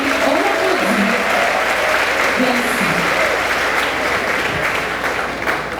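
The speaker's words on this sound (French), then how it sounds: "On applaudit." Loud, continuous applause from a seated audience at a communication and dreams conference session, with a speaker's voice briefly heard over the steady clapping.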